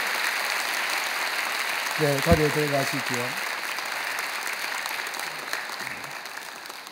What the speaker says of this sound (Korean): 크게 박수로 환영하실까요?